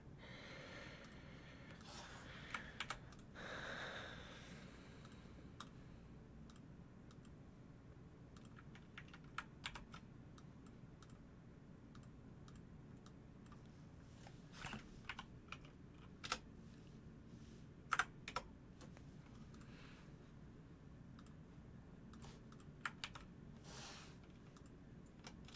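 Keystrokes on a computer keyboard while setting up Quixel Bridge in Blender, faint sparse clicks and short bursts scattered across a quiet room hum, with a few louder taps near the start and middle.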